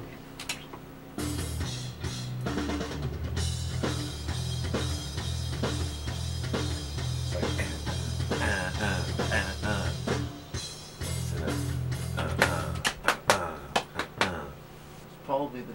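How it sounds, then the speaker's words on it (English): Heavy metal track playing back with only drums and bass: steady pounding kick and snare under a thick distorted low bass line, loud and continuous, ending in a few isolated drum hits. "You hear that part again with just the drums and bass?"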